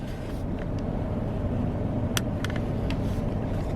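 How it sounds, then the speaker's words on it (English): A 2023 Mack box truck engine runs in a steady, heavy low rumble, with a few brief faint clicks over the constant drone. "it's a 2023 Mack box truck"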